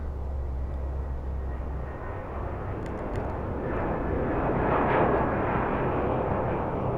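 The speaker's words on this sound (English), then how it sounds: "Beautiful engine." Car engine in Gran Turismo 7 played on PSVR2, a low rumbling drone that swells into a louder roar midway before easing off, with faint clicks early on.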